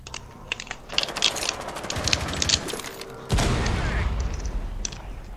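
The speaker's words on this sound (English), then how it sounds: "He's still shooting my decoy" Rapid bursts of gunfire from a Rainbow Six Siege match on PS4 crackle in quick succession, then swell into a louder, heavier barrage in the second half, dense and close.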